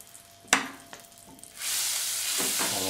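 In a mould set over very low heat, something melts with stirring by a wooden spatula: a few soft knocks and scrapes, then a steady close hiss of sizzling that holds to the end.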